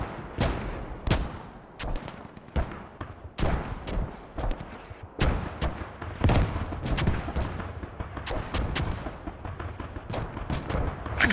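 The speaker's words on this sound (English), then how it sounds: "Now taking mortars too." Mortar fire in the tactical shooter Squad: a dense run of sharp shots and heavier thumping impacts, some close and others distant, continuing without pause.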